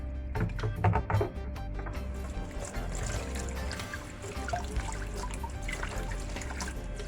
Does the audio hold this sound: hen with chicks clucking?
no